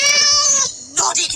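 A cartoon cat in a level of a puzzle video game lets out one long, loud, drawn-out meow, followed by a short burst of other game sounds.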